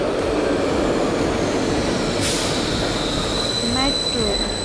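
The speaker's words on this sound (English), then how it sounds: "This is a metro." A metro train runs past in a steady, loud broadband rumble with a faint squeal of wheels on rails near the end.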